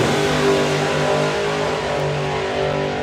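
Doorslammer drag race cars, including a supercharged car, roar loudly and continuously off the start line at a drag strip, a dense steady engine blare with no talking.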